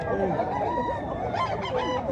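Gamecock stag at a manok expo and auction in Mantalongon, Barili, Cebu, crowing in a drawn-out call close by, with other fowl calling in the background and a voice talking briefly.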